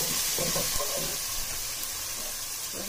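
Fenugreek seeds and cumin, with ginger and garlic, sizzle as they fry in a pan while making kadhi pakora. The sizzling is steady, with faint clinks and stirring on top.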